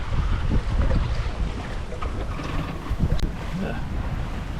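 Steady wind buffets the microphone over a continuous rush of sea and water against the hull of a sailboat a few miles offshore in a moderate breeze, loud and constant throughout.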